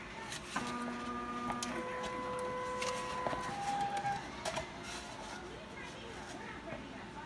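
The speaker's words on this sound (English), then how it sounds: "This is a Pancake 3D printer." A pancake 3D printer runs with a mechanical whir and a few clear electronic beeping tones early on, mixed with people talking and background noise.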